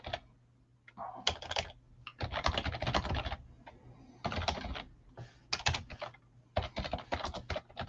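Computer keyboard typing recorded while listing PlayStation 3 games for sale, in irregular bursts of rapid key clicks with short pauses between them, close and fairly loud, with a low steady hum underneath and no talking.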